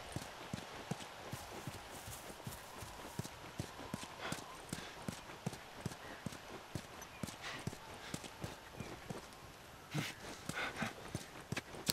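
Horse hooves clop steadily in a walking rhythm in The Last of Us Remastered, close and crisp, with faint ambient noise beneath.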